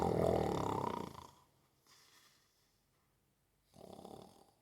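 A voice imitates a snoring old couple in a Christmas bedtime story, giving two drawn-out rasping snore sounds separated by a quiet breathy pause, fairly close and moderately loud.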